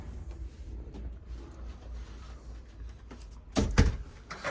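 A closet door on a balcony stateroom of the Virgin Voyages cruise ship Valiant Lady swings shut with a sharp close-up clack and rattle near the end, after quiet cabin hum.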